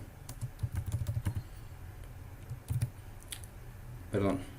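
Computer keyboard typing while naming a CAD layer: a few quick bursts of close key clicks with short pauses between them, fairly quiet and without speech.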